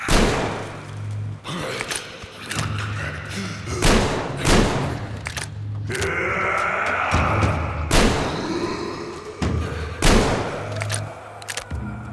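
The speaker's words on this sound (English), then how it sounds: "The A-Shot serves as an effective close-range weapon for this frantic, breathless type of gameplay" An A-Shot shotgun in Metro Exodus fires a string of heavy, booming blasts about a second apart, close and loud over low rumbling game ambience.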